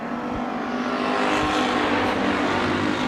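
Dirt track race cars roaring at Bakersfield Speedway on a green flag restart, a dense loud engine drone that swells and holds steady as the pack accelerates, heard from the grandstands.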